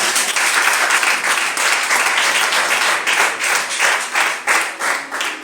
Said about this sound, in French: Non, Jésus, applaudissons le Seigneur.